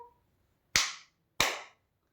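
Two crisp hand claps, close and clear, sound one after another in a children's counting game during an online preschool math lesson, after a faint trailing voice.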